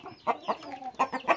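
A fighting gamecock of an aggressive breed gives a quick run of sharp, close clucks in an uneven rhythm.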